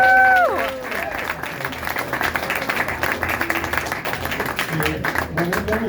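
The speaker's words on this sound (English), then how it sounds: "So let's have a round of applause for Denver." An audience at a poetry reading at the Mercury Café in Denver claps and cheers in a steady, sustained burst of applause, with a few voices calling out over the clapping.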